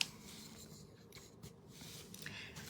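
Paper is peeled back from an old book during a decoupage craft project. A faint, close, papery rasp and scratch continues over a couple of seconds with no speech.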